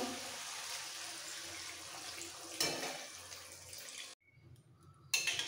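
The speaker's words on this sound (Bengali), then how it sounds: "এবার দিয়ে দিচ্ছি জল" Water poured into a pan of potol, potato and prawn curry gives a continuous splashing stream that briefly cuts out, then resumes for a moment.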